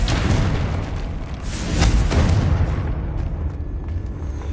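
A Confringo spell explosion in Hogwarts Legacy, a loud booming blast with crackling and a rumbling tail that fades over a few seconds.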